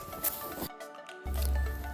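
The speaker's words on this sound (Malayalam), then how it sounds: "നമ്മുടെ ഷവർമ പോക്കറ്റ് എടുത്തിട്ട് ഇതുപോലെ ഒരു സൈഡിൽ നിന്ന് കീറിയെടുക്കണം" A shawarma pocket bread is torn open along one side by hand, making soft, close, squishy tearing sounds that are quiet and broken by a brief silent gap.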